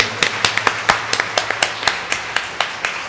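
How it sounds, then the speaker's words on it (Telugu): Congregation clapping in church during a Christmas novena Mass, a steady series of sharp, loud hand claps in an uneven rhythm over a low background hum. "గట్టిగా చప్పట్లు కొట్టండి హ్యాపీగా ఉన్నవాళ్ళు"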